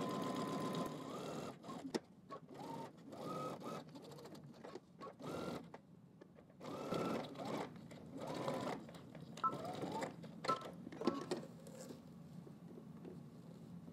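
A home sewing machine stitches a shirt seam in repeated short runs of fast, close whirring, stopping and starting several times with quiet gaps between bursts.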